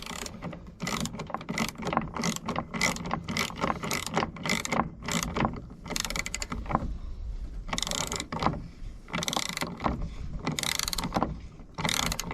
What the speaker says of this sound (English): I'll get the extension, get this bolt down there and tighten it up